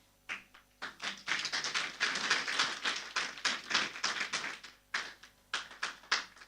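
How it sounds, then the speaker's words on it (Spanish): Applause welcoming a church music group at a Sunday service, a few claps that build into dense, lively clapping from a congregation, then thin out into scattered, slightly irregular claps near the microphone. "con un fuerte aplauso, los recibimos al grupo Canto de Esperanza"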